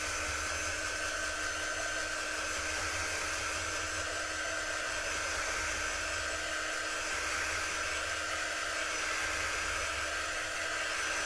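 A hair dryer blowing steadily on chalk paste over a craft stencil, a loud continuous whine with a constant tone and no breaks, no voices.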